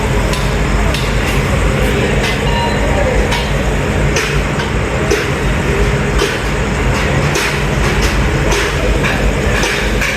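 A train rolling through Bangabandhu Bridge West station in Bangladesh, where rail bridge construction is under way, loud and close with rhythmic clickety-clack wheel knocks over a constant rumble.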